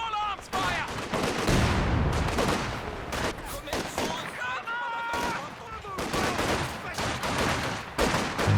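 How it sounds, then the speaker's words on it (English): In the Company of Heroes 2 video game a pair of machine guns fires in continuous rattling bursts, mixed with other battle noise. Dense and steady under faint sound effects throughout. "the double machine gun's shutting down the aggression"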